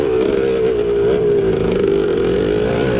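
A 1974 Yamaha MX360 two-stroke motocross bike racing in a vintage cross-country event, its engine holding a steady, buzzing drone with slight pitch wavers as the throttle shifts, loud and close throughout.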